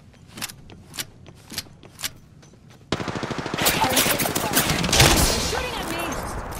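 Gunfire in the battle royale game Apex Legends: a few spaced single shots ring out first, then a loud, dense stream of rapid automatic fire takes over and continues to the end.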